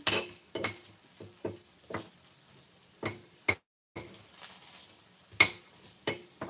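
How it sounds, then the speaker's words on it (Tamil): Utensils clinking against a pan while paniyaram cooks: scattered light metallic taps and knocks with short pauses, fairly close and moderately quiet, no voices. "பணியாரம் சுட்டுட்டு இருக்கேன்ப்பா."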